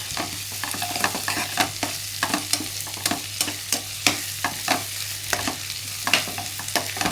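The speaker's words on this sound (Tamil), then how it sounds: "1 ஸ்பூன் இஞ்சி பூண்டு பேஸ்ட்டு விழுது, அது கொஞ்சம் போடுறேன். போட்டுட்டு ஒரு பெரட்டிடணும்." Ginger garlic paste frying in a pan is stirred with repeated scraping strokes in a steady rhythm over a continuous sizzle, close and clear, with no talking.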